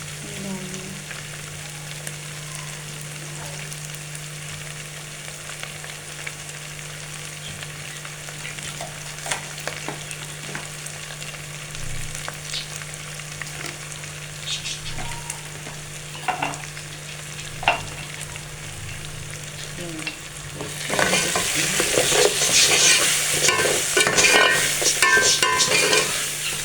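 Spices fry in hot oil for chana dal with spinach, giving a steady close sizzle with scattered scraping stir sounds, and the sizzle swells louder and brighter in the final few seconds.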